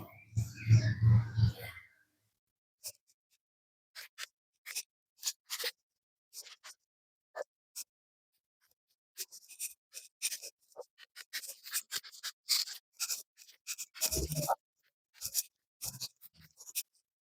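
Garden scissors snip while deadheading a Rebecca rose in a garden bed, a rustle of foliage and then a series of short, crisp cuts spaced irregularly, with a few louder clusters of snips and handling noise.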